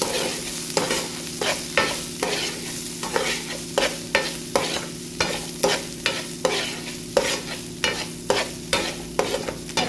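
Onions and green chilies stirred and fried in a pan, a spatula scraping in a steady repeated rhythm over a constant close sizzle, with no one talking.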